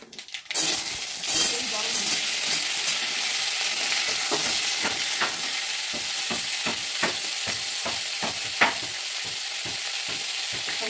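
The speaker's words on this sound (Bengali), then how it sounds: "শুকনো লঙ্কা, তেল কিন্তু সামান্য, আর দিলাম এই দেখো কয়েকটা সর্ষে" Mustard seeds and dried chilli fry in a small amount of oil, giving a steady bright sizzle throughout, with repeated stirring clicks and scrapes of a utensil against the pan.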